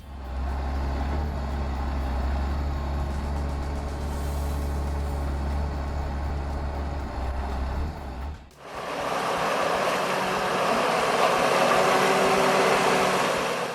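Valtra forestry tractor engine running while working difficult forest terrain, a steady loud heavy diesel drone that cuts off sharply partway through and gives way to a broad, rushing mechanical roar, with no talk.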